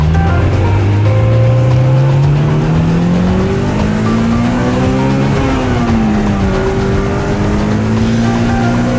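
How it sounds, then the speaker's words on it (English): A car engine revs hard and keeps climbing while the clutch slips, a loud, close, continuous drone with pitch rising and wavering but no clean shift, and no talking over it. "This f***ing clutch is slipping."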